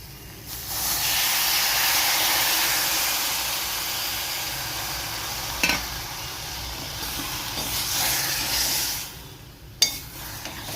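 Water splashed into a pan of sautéing vegetables for sambar, a loud steady hiss and sizzle that swells and slowly fades, with a couple of sharp clinks of a spoon against the pan.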